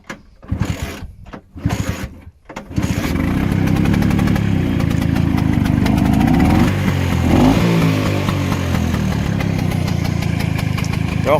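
A Yamaha Fazer motorcycle is handled with a few clicks and knocks, then the engine cranks and fires, settling into a loud, steady idle close by with slight revs.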